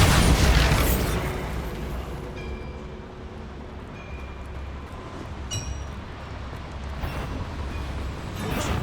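A Bombarda spell explosion in Hogwarts Legacy on PS5 bursts with a loud, close blast at the very start, then settles into a rumbling decay and continuous game noise with faint later impacts.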